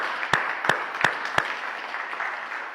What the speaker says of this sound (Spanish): ¿por qué no le damos un aplauso a todos los que se están conectando